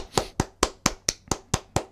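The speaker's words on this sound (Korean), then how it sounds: "우리 한번 박수 한번 치도록 하겠습니다" Nine sharp, evenly spaced hand claps sound close and clear in a steady rhythm, distinct slaps separated by quiet gaps.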